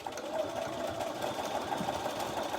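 A sewing machine stitches along a row of existing stitching with the presser foot riding its edge, giving a faint, steady whirring hum throughout.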